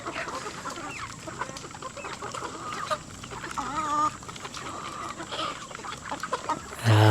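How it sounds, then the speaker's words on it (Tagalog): Chickens cluck and call in an outdoor backyard in the Philippines, several birds near and far, with a short warbling crow in the middle. "Mga tilawak ng manok"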